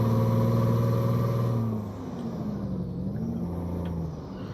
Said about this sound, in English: Let's let the revs build a little bit, see how noisy she gets. Oh, quite noisy.